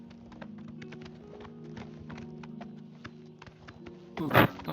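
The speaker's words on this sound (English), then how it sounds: "And that's my horse." Horse hooves clip-clop in Oblivion Remastered, a steady run of close, crisp taps over a low background hum, ending in a louder burst of noise.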